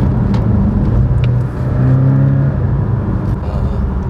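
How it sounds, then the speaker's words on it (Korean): A Porsche 718 Boxster GTS with a mid-mounted boxer engine runs with a steady, loud drone and a brief rise in tone midway. No one speaks over it. "엔진 사운드 준비하셨습니까?"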